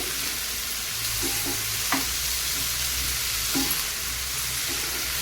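Tomato, onion and green chilli frying together in a pan for an onion sagu, a dense steady sizzle with a few soft utensil scrapes and stirs close by.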